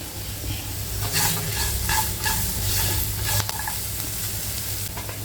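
Roasted peanut powder and grated fresh coconut being stirred in a hot pan for varai upma, a soft continuous sizzle with bursts of scraping and stirring strokes, close by and fairly loud.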